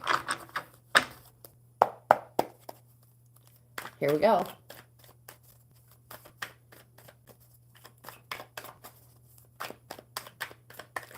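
Playing cards are shuffled by hand at a casual coffee-club card game, with bursts of riffling and snapping between quiet pauses, close by, as a voice speaks briefly.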